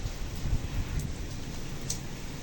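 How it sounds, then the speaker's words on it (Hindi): Heavy night rain pours steadily as a dense, continuous hiss with low rumbling undertones, loud and close, and nobody speaks. "बारिश बहुत ज़्यादा तेज़ थी"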